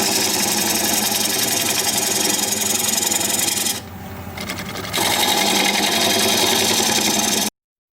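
Wood lathe spinning a decayed sassafras blank at about 650 rpm, a loud steady mechanical whir with a brief dip in intensity midway, running alone without talk.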